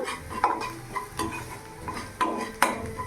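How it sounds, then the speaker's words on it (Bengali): Chilli powder and spices in a pan are stirred with a utensil that scrapes and clinks against the metal in uneven strokes over a soft sizzle. "এবার ভালো করে আমি মিশিয়ে নেব।"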